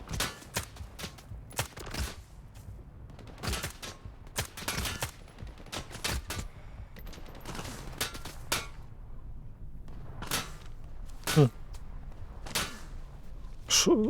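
Sharp gunshots crack in irregular bursts and single shots throughout in the video game S.T.A.L.K.E.R. 2, some rapid volleys, others spaced apart, against a low background hum.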